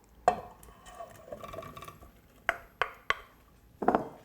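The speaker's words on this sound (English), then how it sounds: "Give that a little mix." A few soft, scattered knocks and clinks of a spoon against a pan while summer berries (raspberries, blackberries and strawberries) are given a quick mix, quiet and close with brief pauses between strokes.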